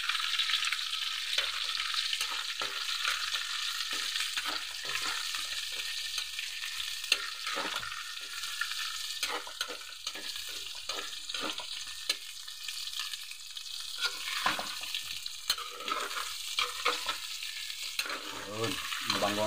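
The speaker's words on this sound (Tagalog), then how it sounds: "gigisa na tayo ng ating bawang. Isabay natin yung ating sibuyas." Garlic and onion sauté for humba pata, pork hock braise: a steady close sizzle with frequent clattering spatula stirs and scrapes throughout, moderately loud, nobody talking.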